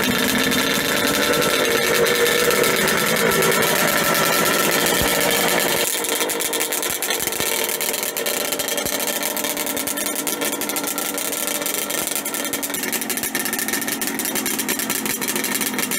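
A Kawasaki H1 Mach III motorcycle engine, built for flat track racing, idles steadily at close range with a continuous buzzing burble that holds an even level for the full length, with no one talking.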